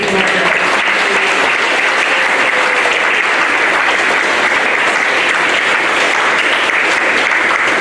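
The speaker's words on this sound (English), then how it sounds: "We do one more round of applause for those teachers." Loud, sustained applause fills an elementary school 5th grade completion ceremony as the audience claps for the teachers, with dense, continuous clapping throughout.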